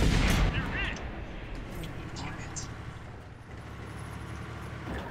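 Tank cannon fire in the online game World of Tanks, with a loud blast at the start and a steady rumbling battle background running under ongoing talk.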